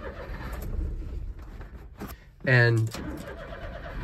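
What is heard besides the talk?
Daihatsu Hijet mini truck starting and driving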